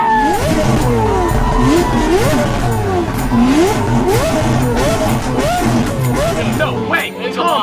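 A carbon Lamborghini Aventador's engine revs repeatedly in rising and falling sweeps, loud and close, amid crowd noise and overlapping talk.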